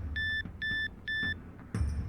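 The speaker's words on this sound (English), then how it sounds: "Right at that moment, something beeped." Electronic beeps in the visual novel game Killer Queen: three evenly spaced, clear tonal bleeps followed by a sharper fourth tone, over low background music with no voices.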